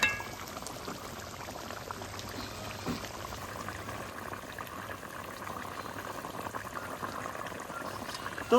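Crab curry gravy with fried crab pieces at a steady rolling boil in a pot, a soft continuous bubbling hiss with faint clinks, no voices.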